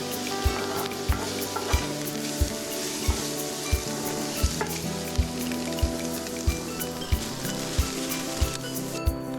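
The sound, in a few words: bacon frying in a pan, being stirred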